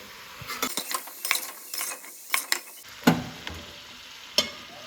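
Ground spices being stirred into mixed pickle, with irregular scraping and clinking strokes of a spoon against the container, some sharp knocks standing out against a quiet background.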